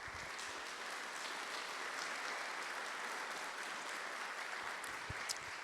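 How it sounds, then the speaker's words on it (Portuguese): A church congregation applauds, a dense, even wash of clapping from many hands that holds steady for several seconds without voices. "Dê uma salva de palmas para Jesus."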